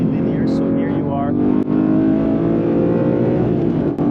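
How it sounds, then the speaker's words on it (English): A naturally aspirated Porsche 911 GT3 engine drives hard around a race track, a loud, sustained harmonic drone with rising and falling pitch and a couple of brief sharp shifts, heard close from inside the car. "I'll stay quiet for this GT3 lap so you can enjoy the engine sound and action with me."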